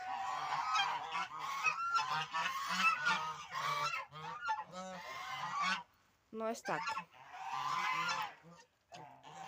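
Geese honk loudly and repeatedly in a noisy flock in a snowy farmyard, calls overlapping almost continuously with a short lull, and someone speaks briefly near the end.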